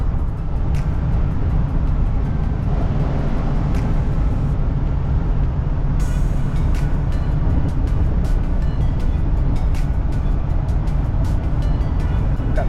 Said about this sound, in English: we are cruising down the road